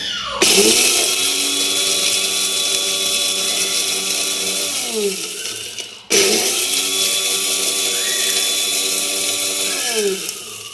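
A kitchen mixer grinder pulverizes tamarind and spices into powder, running loud and steady in two long bursts, each winding down with a falling whine before the next starts.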